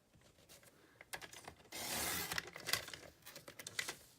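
Paper card being trimmed, heard as crisp, close slicing and scraping bursts with short pauses between cuts. The sound is quiet with no voices.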